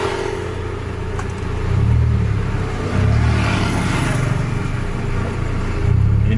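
Scania K410 bus engine pulling hard under acceleration on the road, a steady loud rumble with low surging revs that rise in waves, recorded from inside or near the coach.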